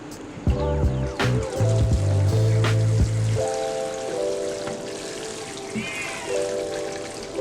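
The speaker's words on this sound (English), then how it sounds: "so I'm gonna water this corn" Water pours from a container onto a potted corn plant on a patio, a splashing, trickling stream with gurgling tones, heavier at first and then thinner and intermittent.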